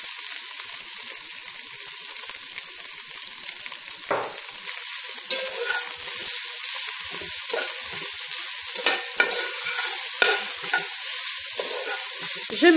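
Pork being stirred in a pan with salt and sugar for caramel pork, making a continuous bright sizzle and frying hiss with occasional scraping and stirring knocks, close and loud.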